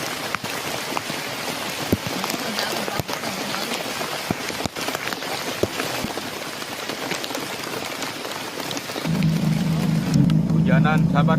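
Rain falls steadily at a riverside fishing spot, a dense hiss of drops throughout, joined near the end by a louder low engine-like hum.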